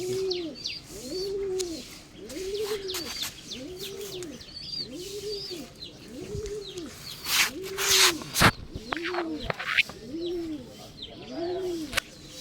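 Pigeons coo in a slow, regular series of soft throaty calls, with small birds chirping around them and a few brief rustles.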